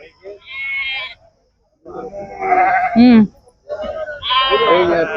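Sheep bleat at a sheep and goat market, several loud nearby bleats in separate bursts with short pauses between them, and no talk over them.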